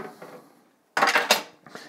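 Cooked pasta tossed into sauce in a pan with a metal spoon: a brief quiet scrape, then a loud burst of clattering and scraping against the pan, followed by a softer clink.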